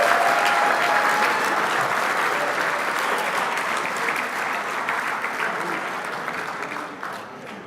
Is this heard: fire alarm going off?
no